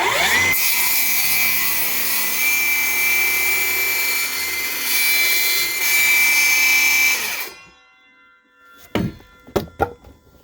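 A power saw cuts through pressure-treated lumber for stairs with a steady, loud whining rasp for several seconds, then stops, followed by a few sharp wooden knocks and clunks.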